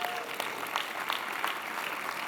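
Keynote audience in a large hall claps steadily for a couple of seconds, a dense, moderately distant wash of applause with no break.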